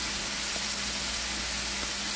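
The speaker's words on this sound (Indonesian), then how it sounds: "minyaknya panas, masukin ayam yang sudah dimarinasi semalaman." Chicken marinated overnight in taichan spices frying in hot oil, a dense, even, loud sizzle close by throughout, with no talking.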